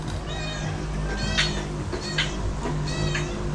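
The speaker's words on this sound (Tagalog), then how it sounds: "Diyan na naman yung pusa." A cat meows three times in quick succession, fairly close and clear, over a steady low household hum.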